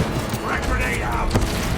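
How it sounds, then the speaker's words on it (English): Frag grenade going off in Warhammer 40k Space Marine 2, a rumbling blast and gunfire clatter mixed into dense game noise, with a voice talking over it. "Frag grenade out."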